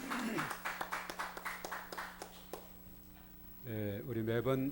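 A congregation at a Korean Sunday church service claps in a steady rhythm of evenly spaced claps for a couple of seconds, then the clapping stops and a voice speaks.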